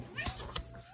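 A house cat gives two short, faint cries in a quiet room, brief vocal bursts spaced about a quarter second apart over a low background hum.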